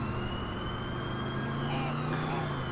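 An ambulance siren wails steadily in the LCPDFR police mod for a video game, with a continuous rising and falling tone over a low engine hum, moderately faint and with no talking.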